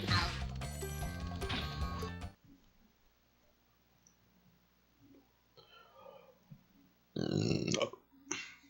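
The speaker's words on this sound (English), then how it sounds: "You're welcome for that burp." A single loud, throaty burp from a man, close to the microphone and lasting under a second, preceded by the bright tones and clicks of a Spyro the Dragon video game and followed by a short click.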